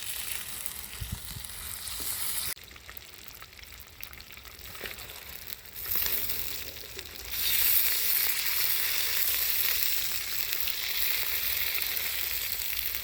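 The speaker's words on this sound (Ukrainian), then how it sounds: "Крила вже в нас підрумянені, додаємо соус і ще їх трошечки потушимо, щоб вони обмінялися смаками." Browned chicken wings fry in a pan outdoors with a steady close sizzle that grows louder and hissier partway through, with no talking.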